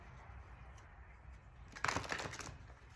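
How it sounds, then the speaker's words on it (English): Moon Oracle cards being shuffled by hand in a quiet room, a soft faint hum giving way to a short burst of riffling card clatter about two-thirds through. "I'll give them a bit of a shuffle for you."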